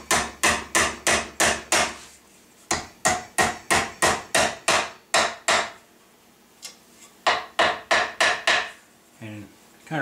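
A hammer drives square nails into a sheet metal buttplate on a gunstock, sharp metallic strikes in quick even runs of five to seven blows, with brief pauses between runs.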